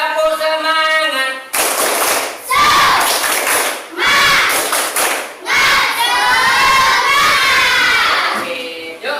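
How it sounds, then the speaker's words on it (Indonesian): A school class in an Islamic education lesson performs a rhythmic clapping chant, loud bursts of hand claps alternating with shouted children's voices in a patterned call-and-response over several seconds. "Ayo, semangat, tepuk semangat."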